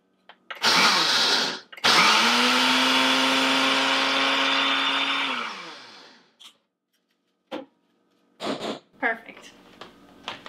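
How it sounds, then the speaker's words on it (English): A small kitchen blender whirs loudly and steadily for about four seconds while grinding oats, after a short first burst, then winds down, followed by a few brief clatters. "having a really small blender in the kitchen is super helpful"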